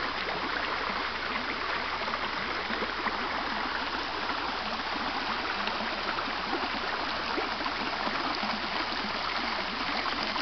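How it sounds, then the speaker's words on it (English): Continuous gentle babble of a small spring-fed brook in the Ozarks flowing steadily toward a low water bridge, soft and even throughout with no voices. "little stream. Comes from over there."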